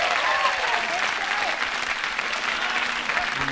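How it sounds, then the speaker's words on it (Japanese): Sustained audience applause fills a jazz concert hall, dense and steady throughout, with a few faint voices and whistles mixed in. "この拍手ですよ、ね。"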